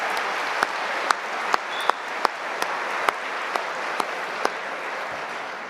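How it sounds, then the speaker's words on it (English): Sustained applause from a university convocation audience honoring a big band, a dense even wash of many hands with a few louder, crisper claps standing out near the microphone. "Another round of applause,"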